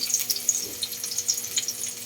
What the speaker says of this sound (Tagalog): Igisa na natin sa bawang, at sibuyas, saka kaunting luya.